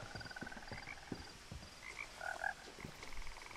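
Frogs croak around a pond in the video game What Remains of Edith Finch, several soft, scattered croaks at moderate distance, quietly layered over a faint ambient background.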